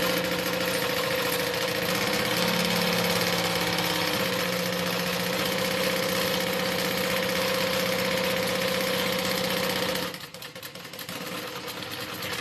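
A sewing machine stitching wallet pieces together, a loud, steady mechanical whir with a fast, even stitching rhythm and a constant hum, running close for about ten seconds before cutting off, with no talking.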